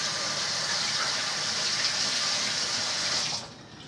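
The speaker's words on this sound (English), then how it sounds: "I'm going to just rinse this real quick just to make sure it's clean and rinsed" Tap water runs steadily at a kitchen sink as a container is rinsed, a close, full gushing stream that continues for several seconds and then cuts off abruptly.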